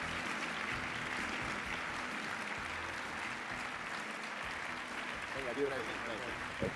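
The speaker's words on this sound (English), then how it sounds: "Come on up, let's give him a big round of applause." Sustained applause from a conference audience greeting a presidential address, a steady, even wash of many hands clapping at moderate distance, with a couple of brief louder accents near the end.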